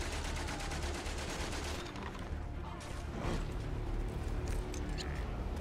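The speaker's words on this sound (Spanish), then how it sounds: "Otra ametralladora de estas." Machine gun fire in the World War I video game Valiant Hearts, a rapid rattling burst of shots followed by crashes and clatter amid game noise.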